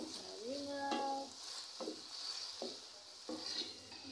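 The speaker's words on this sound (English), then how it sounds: "Continue stirring up, stirring up." Mrenda greens and liver stirred in a cooking pot, with faint bubbling and a few soft scrapes of the spoon at a slow, irregular rhythm, quiet and close, with a brief tonal sound near the start.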